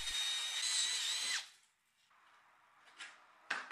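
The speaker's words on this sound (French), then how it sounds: "D'abord, je vais percer ces vieux rivets." A power drill bores out old rivets in an aluminium profile, a loud steady whine for about a second and a half, then quieter handling clatter and a short burst near the end.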